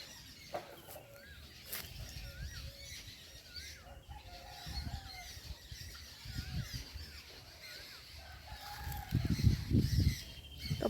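Birds squabble near a set of stairs: scattered clucks and bird calls with wing flaps in a quiet rural yard, building to a louder, busier scuffle near the end.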